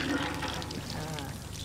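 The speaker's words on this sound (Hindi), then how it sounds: "अच्छा पानी आ रहा है।" Water gushes and splashes from a hand pump in a village setting, a steady close pour filling the short moment.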